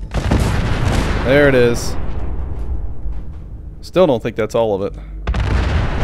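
Explosions in the Fallout 4 video game, loud booming bursts with rumbling decay under a man's speech, heavy at the start and again toward the end.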